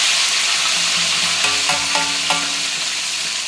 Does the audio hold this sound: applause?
no